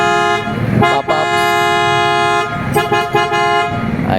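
A newly bought car horn being tested sounds in long, loud, steady blasts with brief breaks, a bright multi-tone toot close to the listener.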